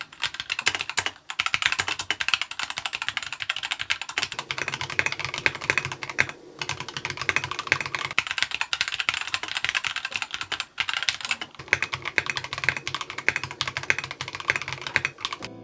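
Continuous fast typing on Melgeek Mojo68 and Keychron K2 mechanical keyboards, the Keychron fitted with Gateron Red switches. Dense clacking keystrokes are heard up close, broken by a few brief pauses.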